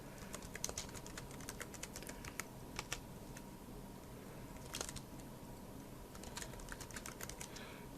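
Keys tap on a computer keyboard in irregular clusters of quick, light clicks, quiet and close, with short gaps between bursts.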